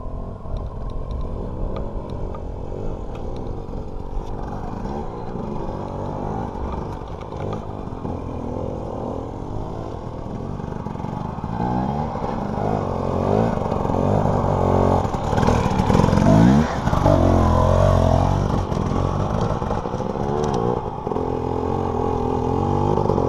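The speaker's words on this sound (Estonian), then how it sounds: "just mootorratturid üles tulid" Motorcycles ride up the sunny Slickrock Trail, a continuous buzzing engine drone that swells louder and closer toward the middle before easing slightly, with no voices.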